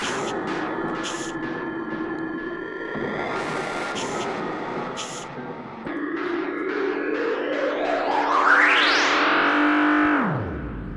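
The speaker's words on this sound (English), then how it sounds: "So the Roland SCO2 has a digital delay built into it" A Roland SH-02 synthesizer holds a note while its filter cutoff is swept down and up by hand, the bright resonant sweep rising to a peak and falling away, trailed by repeating echoes from its built-in digital delay.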